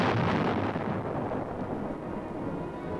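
Archive Korean War battle sound of 155 mm howitzers firing at advancing Chinese troops, a heavy rumbling boom that rolls on and slowly fades across the clip with no talk.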